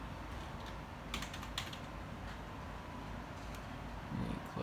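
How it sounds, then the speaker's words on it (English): Keys tapped on a computer keyboard while setting a heat level for an Arduino Uno project, a few quick faint clicks in short bursts over a steady background hiss. "you can also just type it in like this"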